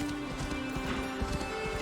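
Horses in Assassin's Creed Valhalla clip-clop at a steady trot with a brief neigh, over a constant droning game soundscape, with no talk.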